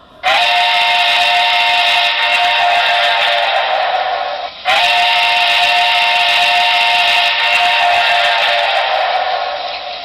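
A loud, sustained model steam locomotive whistle, a Broadway Limited model, blows in two long blasts, separated by a brief break, with a breathy hiss under the tone.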